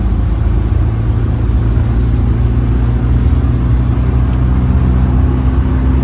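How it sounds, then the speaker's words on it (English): A 1972 Volvo 144S engine is floored in fourth gear, a loud, steady, droning roar with deep harmonics heard from inside the car. "just to give you an idea of how it pulls in fourth"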